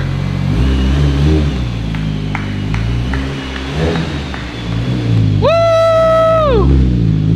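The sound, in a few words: project car engine revving as it is driven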